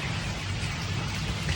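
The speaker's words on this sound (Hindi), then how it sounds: "और इतनी बारिश शुरू हुई कि बहुत ज़्यादा हो गई है।" Heavy rain pours down in a dense, steady hiss with no break, a continuous downpour without any voices.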